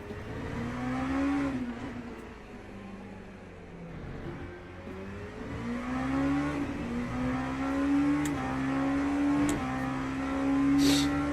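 Race car engine in the Le Mans Ultimate racing game, a high whining motor rising through gears, dipping under braking and climbing again in repeated upshifts, loud and close throughout.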